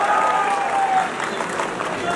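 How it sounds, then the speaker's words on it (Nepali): An audience at a Nepali political satire comedy performance applauds steadily and fairly loudly, with some crowd voices mixed into the clapping. "एउटा ताली भन्नु प्लिज"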